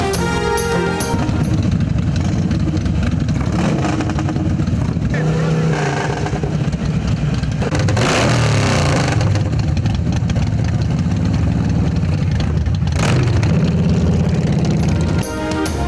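Heavy motorbikes revving and idling at a bike festival in Karachi, their engines a steady loud drone for the whole stretch with brief surges, heard close and mixed with crowd noise and talk.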